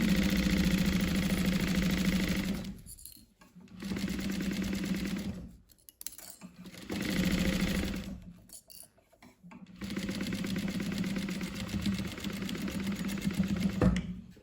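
A sewing machine stitches a zipper onto a fabric laptop sleeve. It runs in three long bursts of rapid mechanical whirring, broken by short pauses, close and steady, with no talk.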